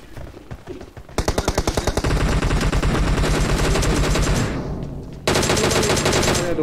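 Rapid automatic gunfire from the mobile battle royale game PUBG Mobile, loud bursts of tightly spaced shots, a long stream, a brief lull, then another burst.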